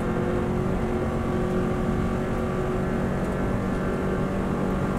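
Subaru WRX STI rally car at full throttle on the Isle of Man road course, a loud, steady engine roar with a dense, sustained drone and no letup from start to finish.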